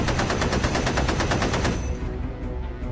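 Rapid machine-gun spray fire from a bomber's waist gun in a game, a loud dense burst of fast repeated shots for almost two seconds, then trailing off into a ringing rumble.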